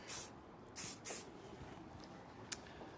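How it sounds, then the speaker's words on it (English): Hairspray sprayed onto styled hair in a salon, three short hissing bursts near the start and one brief puff later, close and fairly quiet. "hairspray is our best friend"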